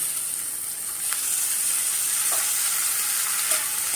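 Onion, cumin and finely chopped tomatoes sautéing in a pan for paneer bhurji, a soft steady sizzle and hiss with a few faint spoon scrapes against the pan, no talking.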